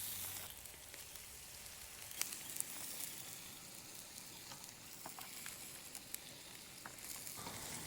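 Bacon frying in a Fire Maple camping pan on a camp stove, a faint, steady hiss with occasional light pops and spits throughout, no one speaking.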